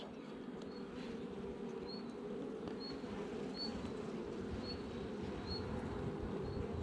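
Honeybees hum in a steady, low buzz around a hive, close by, with a few higher insect whines drifting past.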